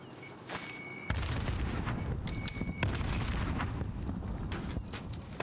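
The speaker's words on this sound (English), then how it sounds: "I got that fucking airstrike still." Airstrike explosions in Call of Duty Warzone: a dense run of booms and rumbling blasts, with sharp cracks rising over a constant heavy roar from about a second in.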